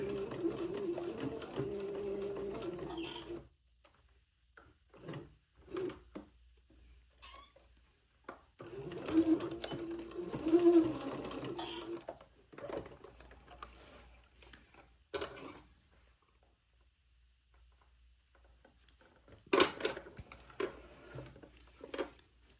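A sewing machine tacks fabric for a diaper shirt in short separate bursts of rapid mechanical stitching, with quiet pauses between them, close by and fairly soft.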